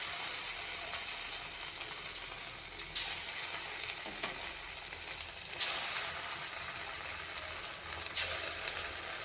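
Spoonfuls of batter dropped into hot oil in a pan and fried, giving a steady, close hiss and bubbling crackle that flares louder as each new portion goes in, with no talking.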